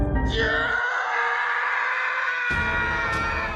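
A cartoon character called Cylinder Man in a horror cartoon lets out a loud, sustained scream with a strained, harmonic-rich tone that holds for several seconds over a rumbling background.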